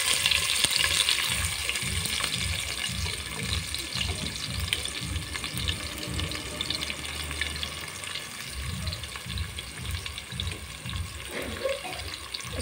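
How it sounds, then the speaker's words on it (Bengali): Chopped onion hitting hot oil in a wok, a continuous close sizzle with a rhythmic low stirring or scraping pulse running through most of it, no voices. "এখন আমার কড়াইতে দেওয়া তেলটা গরম হয়ে গেছে। এখন আমি পেঁয়াজ কুচিটা দিয়ে দেব।"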